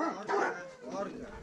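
Mixed-breed sled dogs bark and whimper close by in short, overlapping bursts, while a person talks over them throughout.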